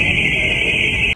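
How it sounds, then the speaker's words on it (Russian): A school fire alarm sounds as one continuous, piercing high-pitched tone, loud and close, holding steady for the whole stretch over low room rumble. "у нас вот эта опять сигнализация, пи-и-и, то есть сначала идет вот этот звук, режущий уши"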